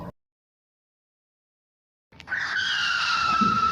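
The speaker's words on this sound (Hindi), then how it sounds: "अरे ये तो उनके आने की आवाज है गाड़ी की" A car pulls up outside a house after a silent stretch, its engine rising into a steady, fairly close drone with a brief tyre scuff as it arrives.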